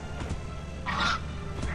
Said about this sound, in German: das ist nur ein Vogel